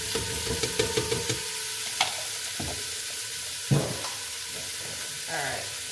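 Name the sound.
food being sautéed in a pan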